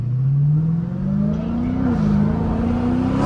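A Dodge Hellcat engine revs steadily upward on a downtown Houston street, its deep exhaust drone echoing off surrounding buildings, loud and close with no talking.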